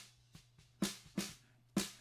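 Close under-snare microphone on a rock kit, catching a couple of quieter ghost strokes and then three brighter, sharper snare hits with crisp buzzy rattle, alone without any talking.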